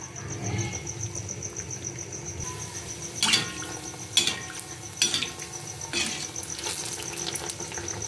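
Malpua batter frying gently in a pan over a low flame, a soft steady sizzle broken by a few brief clinks and stirring sounds at close range, with no talking.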